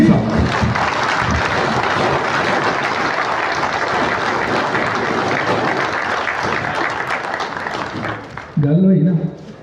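Audience at a prize distribution ceremony breaks into loud, sustained applause welcoming Ustad Mian Nadeem Bashir, a dense crowd of clapping that fills the hall for several seconds before tapering off into a voice near the end.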